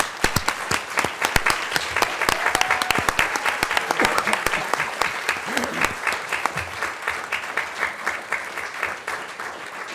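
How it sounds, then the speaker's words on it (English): A room of people claps for young players representing the USA at a World Cup during a city council meeting, the crisp clapping steady at first and then gradually thinning out. "So if you all would join us in giving them a round of applause."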